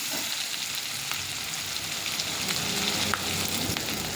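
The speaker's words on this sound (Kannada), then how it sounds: "ಕಲರ್ ಚೇಂಜ್ ಆಗತ್ತಾನ ಹಾಗೆ ಫ್ರೈ ಮಾಡಬೇಕು" Stuffed brinjal curry with garlic frying in a pan over medium gas, a continuous close sizzle and crackle with a few faint stirring knocks.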